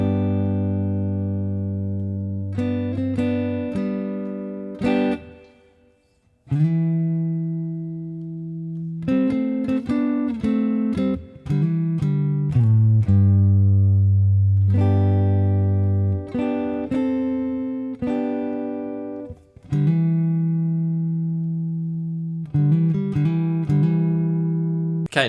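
Electric guitar plays verse 1 of a song, sustained clean chords and ringing melodic notes with occasional hammer-ons, continuous and close for the whole stretch, with no talking.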